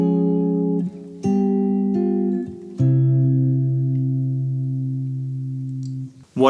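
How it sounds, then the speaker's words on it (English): A guitar plays a chord progression using a Neapolitan sixth chord with an F in the bass, several sustained chords changing in turn before a final long, slowly fading chord, close and clean with no voices. "Swap that out for the Neapolitan sixth chord, which has an F in the bass."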